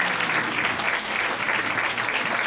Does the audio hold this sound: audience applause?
yes